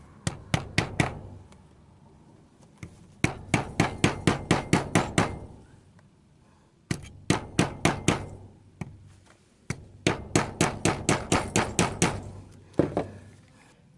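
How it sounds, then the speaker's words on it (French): Hammer blows tapping a gear onto the speedometer shaft of a BMW 316i E36 instrument cluster, coming in four quick bursts of sharp, close metallic taps separated by short pauses. "Je prends mon marteau."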